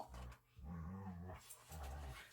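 Dogs growl and let out low rumbling barks in close, sustained bursts, loud and near with short pauses between, and no talk over them.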